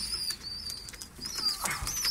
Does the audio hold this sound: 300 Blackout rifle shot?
no